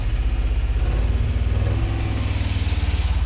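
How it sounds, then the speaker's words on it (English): A Talbot Express van engine with about 40,000 miles, choke pushed in, runs close and loud with a steady pulsing idle and slight rises in revs, no voices over it. "And it's revving up, it's ticking over all right now"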